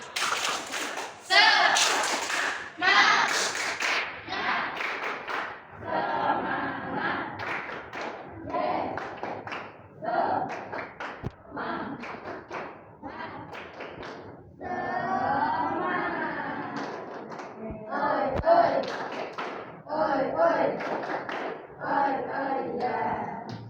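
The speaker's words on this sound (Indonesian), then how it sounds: "Salah satunya adalah tepuk semangat." Schoolchildren perform the rhythmic tepuk semangat spirit clap, sharp patterned claps alternating with loud chanted voices in a classroom, repeated in bursts over about twenty seconds.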